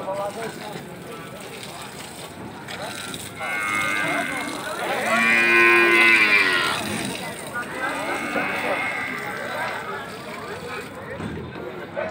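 A cow moos loudly in a long drawn-out call at the Beringkit cattle market in Mengwi, Bali, with quieter lowing before and after and faint background noise.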